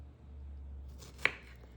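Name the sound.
slicing dessert into big round slices with a knife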